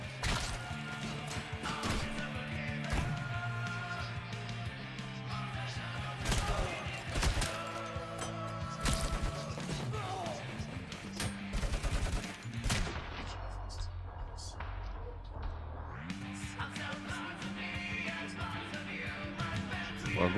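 Gunfire and impacts in the video game Robocop: Rogue City, repeated sharp shots and crashes over a droning tonal music bed, with brief quiet stretches.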